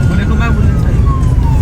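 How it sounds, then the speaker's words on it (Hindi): An ambulance siren passes along a busy road, its tone gliding downward as it goes by amid loud, constant traffic rumble and someone talking over it. "मैंने कहा एम्बुलेंस, इतनी एम्बुलेंसें गुजरी हैं, वो देखें।"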